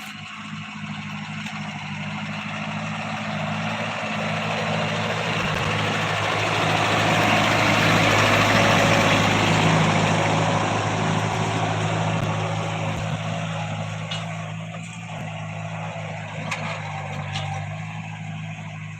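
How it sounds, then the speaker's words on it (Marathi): A tractor working a vineyard, one wheel running on the raised beds while a baliram plough breaks them open, gives a steady low engine drone that swells and fades as it passes close by, with no talking. "बेडवर ट्रॅक्टरचं एक एक एकल्या साईडचं चाक हे करून आपण एका बाजूला बळीराम लावून बेड फोडून घेत आहोत"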